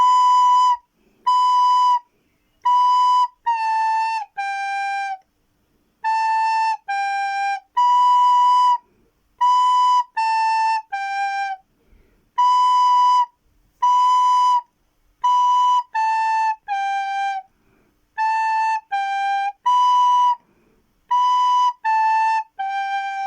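The Yakut children's song "Olenyonok" (Taba) is played slowly on a recorder. It comes as a string of clear, breathy, whistle-like notes in short phrases with brief pauses between them. The instrument is close and solo, with no voices.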